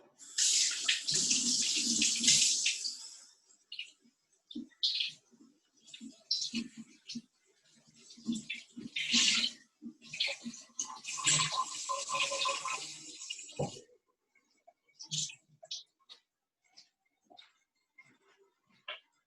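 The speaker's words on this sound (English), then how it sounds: "Nice hot water." Hot water running from a tap to soak a steam towel during a facial, a loud hissing rush at first that breaks into intermittent splashing bursts and trickles, close by with no talk.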